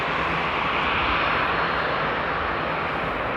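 Aircraft engine noise from a plane taxiing at Frankfurt Airport on a frosty day, a steady, continuous broadband roar that holds level throughout without talk.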